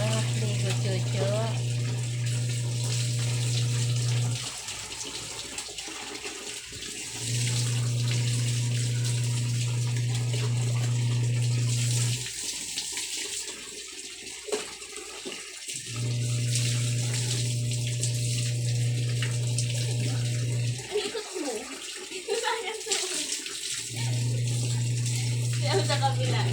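Water runs while a pet is bathed, coming in several long bursts with a steady low hum and brief pauses between them, while people talk throughout.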